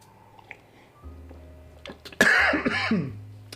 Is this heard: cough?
yes